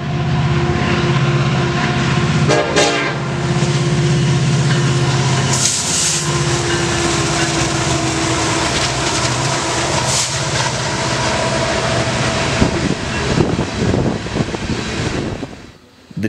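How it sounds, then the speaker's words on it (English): Horn of a southbound coal train's Dash-9 locomotive sounding a salute, steady sustained blasts over heavy rumbling engine and rail noise, loud and close, with no talk. "The engineer even gave a horn salute and a wave."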